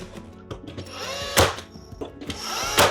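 A cordless power tool works on entrance hallway flooring in short bursts, whirring spins broken by sharp knocks and thunks, fairly close and irregular in rhythm.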